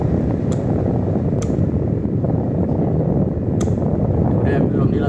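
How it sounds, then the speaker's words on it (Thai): Fan of a FRESH 18000BTU wall-mounted air conditioner with an intermittently failing hot coil, running as a steady loud whooshing roar close by, with a few faint clicks on top. "ฟังเสียงพัดลมด้วยนะครับเวลาบิด"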